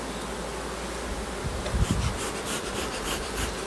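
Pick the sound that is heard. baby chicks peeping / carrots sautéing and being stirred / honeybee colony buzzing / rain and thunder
honeybee colony buzzing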